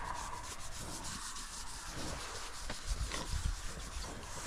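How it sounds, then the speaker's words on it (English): Steady rubbing and scratching of a recently acquired heifer's coat, a continuous close-up brushing scrape with no talking. "She absolutely loves her scratches."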